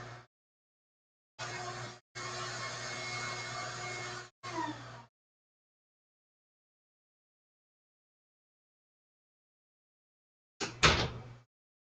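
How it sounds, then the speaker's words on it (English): Vacuum on an electric coffee roaster running as a steady broadband whoosh with a low hum, switching on and off in several segments, then a brief clunk near the end after silence. "I'm going to go cut that vacuum real quick"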